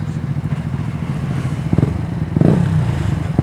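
Motorcycle engine and exhaust idling with a low throbbing rumble, briefly blipped twice with short revving bursts near the end, close and fairly loud.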